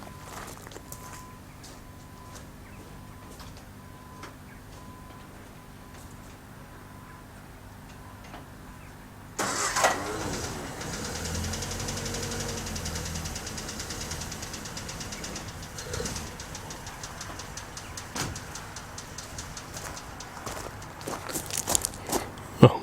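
Standard 8 classic car engine with a freshly swapped rocker assembly cranks into life after a quiet stretch with light ticks, then idles nearby with a steady ticking, knocking rhythm that grows slightly louder toward the end.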